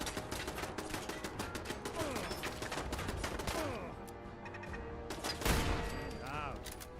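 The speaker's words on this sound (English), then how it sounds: "Fuck, not this stupid turret again." A turret in the video game Fallout 4 fires long rattling volleys, with a heavy impact burst partway through, while someone talks over the dense game gunfire.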